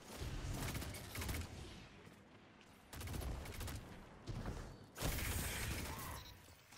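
A competitive pulse rifle fires in a video game in three separate rapid bursts, each a rattling string of sharp mechanical shots. The bursts are spaced a couple of seconds apart and sound loud and close.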